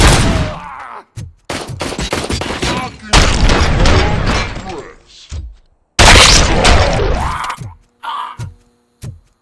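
Pistol gunfire in the video game Robocop Rogue City, loud bursts of shots and booms clustered in several volleys with short silent gaps, mixed with game voices and shouting.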